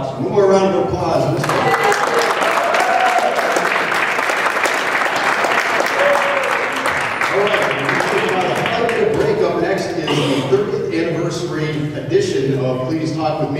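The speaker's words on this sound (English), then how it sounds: "One more round of applause." Sustained crowd applause at a paranormal symposium, steady and loud throughout, with some voices audible beneath the clapping.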